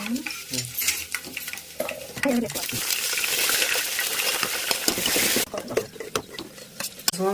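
Dried red chillies and curry leaves hit hot oil in a pan and burst into a loud, dense sizzle that runs for a few seconds before dropping away. Stirring clinks and scrapes come before and after, and a voice is faintly heard early on.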